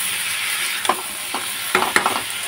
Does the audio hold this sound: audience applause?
no